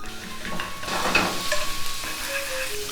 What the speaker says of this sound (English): Then here I'm going to put in the grated ginger and the garlic.